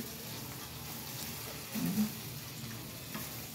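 Eggplant omelette (tortang talong) frying in hot oil gives a steady, soft sizzle throughout, with a brief louder spatter in the middle and no talking.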